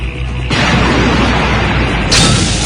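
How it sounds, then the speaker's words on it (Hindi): A bomb planted under an enemy picket goes off in a loud, sustained roaring blast, with a second surge of rumble and debris near the end. "मैं पीछे से जाकर इस पिकेट के नीचे बम लगाकर उसे उड़ा दूंगा"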